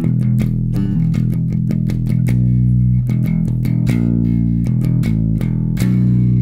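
Electric bass playing the closing variation of a speed-metal riff, rapid punchy picked notes with quick slides and a changed final phrase, loud and close with no talking.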